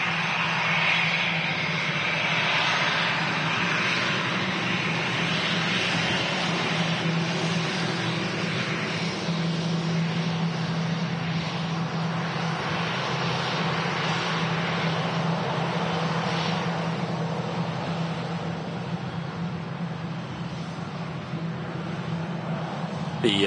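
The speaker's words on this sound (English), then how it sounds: "EasyJet in from Amsterdam." An EasyJet Airbus A320 airliner arrives at Manchester Airport, its jet engines making a broad, steady roar that holds throughout at moderate distance and fades slightly toward the end.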